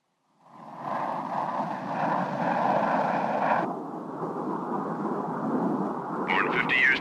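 A biplane engine roars steadily as the aircraft flies, loud and close, with the pitch dropping partway through and a brief higher-pitched sound near the end.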